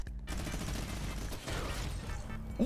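Rapid sustained gunfire from a minigun in the Fortnite Mobile video game, a dense continuous burst of spraying shots heard alone at moderate volume.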